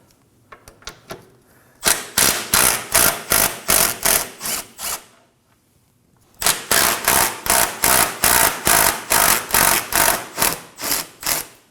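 A hand ratchet loosens 14 mm bolts on the engine torque strut mount of a 2011-2016 Kia Optima 2.4L, giving loud, close, evenly spaced clicking bursts in two runs separated by a short pause.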